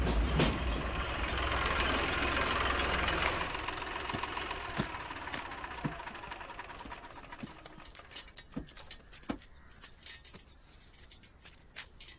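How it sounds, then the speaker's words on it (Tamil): Vehicle engine running as it arrives: a steady engine rumble and hiss that gradually fades, followed by scattered sharp clicks and knocks, with faint bird chirps in the background. "இதோ வண்டி வந்துருச்சுங்கய்யா"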